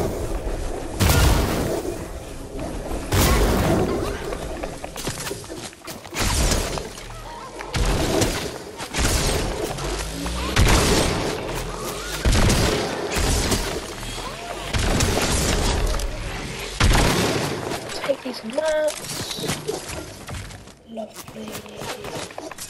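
EX-Caliber rifle shots in the video game Fortnite, heavy booming blasts repeating at irregular intervals amid dense game noise, with a voice talking throughout.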